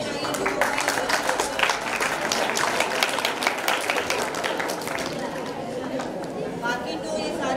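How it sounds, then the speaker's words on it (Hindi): Indoor audience applause and scattered clapping at a spiritual gathering, a steady dense wash of many hands with crowd chatter mixed in, continuous and fairly loud for the whole stretch. "और जो ऐसे बच्चों के लिए तालियां बजनी चाहिए जो मोबाइल नहीं लेते"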